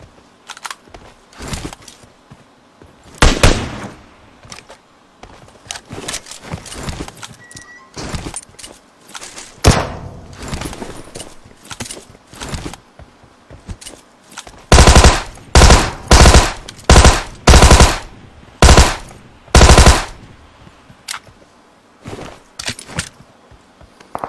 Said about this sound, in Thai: มีคนออกกระสุน